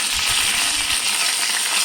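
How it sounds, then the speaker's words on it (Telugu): Washed curry leaves crisping in hot oil in a pan for a carrot peanut fry, a loud dense hiss of frying with a few low bumps early on, steady and close. "కరివేపాకులో కొంచెం క్రిస్పీగా అయ్యేంత వరకు వేసుకోవాలి"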